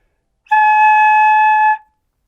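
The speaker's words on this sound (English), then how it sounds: "So what does the flute sound like?" A flute plays a single steady, pure-toned note held for just over a second, clear and close, then stopping cleanly.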